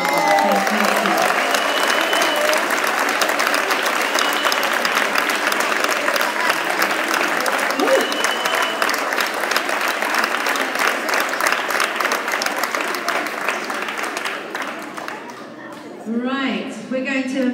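A school prize-giving audience claps continuously as a class of pupils returns to their seats, a long, dense wash of applause that thins near the end, where a voice speaks over the last of it.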